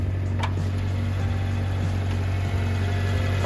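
A Mitsubishi Pajero Mini's engine idles steadily through its muffler, a low, even drone heard up close with no voices.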